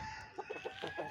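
Aseel roosters on a farm cluck softly in a short, quiet burst of about five quick, rhythmic clucks, with a faint steady tone running underneath.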